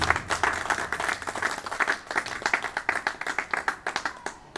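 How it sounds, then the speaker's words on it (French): Audience at a gathering applauds, with distinct individual claps forming an uneven, rhythmic patter that stays fairly close and moderately loud before tapering slightly at the end, no speech over it. "Là, vraiment, nous pouvons applaudir."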